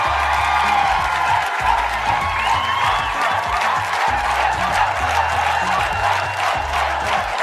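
A studio audience on a Brazilian Sunday TV variety show applauds and cheers loudly and steadily for funk performers, with a dense wash of clapping and shouts and a pulsing music beat underneath.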